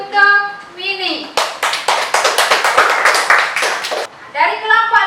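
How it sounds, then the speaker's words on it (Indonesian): Classroom applause for a student presenter after a biology lesson, a burst of clapping hands lasting about three seconds, framed by children's voices talking before and after. "tepuk tangan untuk Mini"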